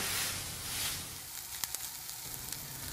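Burger patties browning in a pan give a soft steady sizzle, with a few faint clicks near the end and no speech.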